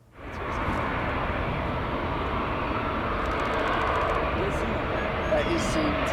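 A Qatar Airways Airbus A350 airliner at O'Hare airport gives off a steady, loud engine roar that swells in and holds without a break for several seconds.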